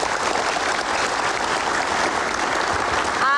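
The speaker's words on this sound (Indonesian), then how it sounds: "kita kasih tepuk tangan dulu" An audience applauds a university student from UHAMKA at a campus debate event, sustained even clapping filling the room, moderately loud and steady throughout.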